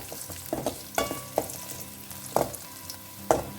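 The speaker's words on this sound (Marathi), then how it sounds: "आता इथून घालता हूँ लसूण आणि आले. बरे फ्राय करून घ्या." Garlic, ginger and onion fry in a pan with a steady background sizzle, broken by several sharp stirring scrapes and clinks at irregular intervals.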